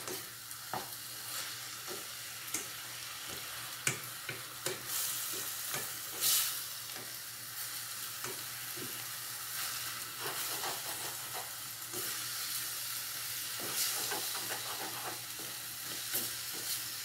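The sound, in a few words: stirring egg frying in a pan for zucchini farofa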